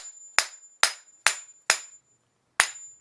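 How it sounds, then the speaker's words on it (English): A hammer knocks the bearing out of a Casablanca ceiling fan rotor assembly: five sharp, close metallic strikes, four in an even rhythm and then a final blow after a short pause, with a faint high whine underneath. "This one doesn't really want to push it out, so I'm going to hammer it."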